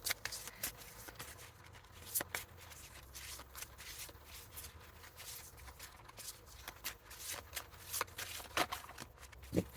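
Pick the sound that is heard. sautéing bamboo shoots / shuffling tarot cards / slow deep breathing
shuffling tarot cards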